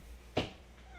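A single short, fairly loud meow from a pet house cat, close by, in an otherwise quiet indoor room.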